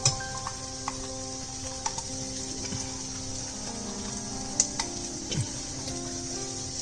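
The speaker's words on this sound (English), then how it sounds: "At this time, I have pureed the ginger garlic paste. I'm going to drop that in." Pureed ginger garlic paste goes into a pan of lightly browned onions, bringing a steady soft sizzle with scattered small ticks and taps of a spoon.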